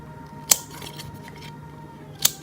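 Two sharp scissor snips cut paper while trimming the sides of a small crib for a doll craft. The cuts are close and well apart, over a quiet room hum.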